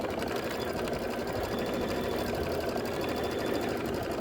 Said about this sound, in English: And let it do its quilting.